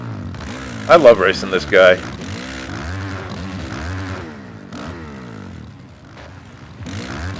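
In the MX vs ATV Legends game, motocross bikes whine and rev on a Daytona supercross track, one buzzing engine passing close, under steady talk from a man.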